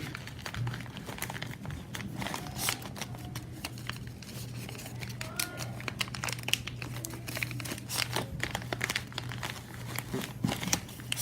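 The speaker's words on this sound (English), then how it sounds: "And then I'm going to take this flap and fold it in." Close, continuous crinkling and rustling of paper being folded into an origami transforming ninja star, with irregular sharp crackles over a steady low hum and no talking.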